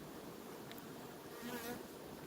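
Honeybees buzz around a hive in an apiary where workers have turned drone-laying, a faint, steady, close hum with a few brief louder passes and no talk.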